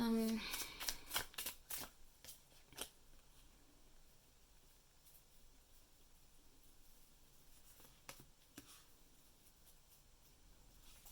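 Tarot cards are shuffled in quick riffling bursts at the start, then the handling quiets to soft, sparse card slides and taps, close by and low in level.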